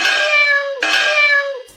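A cat meows twice in quick succession, loud and close with no other sound around it.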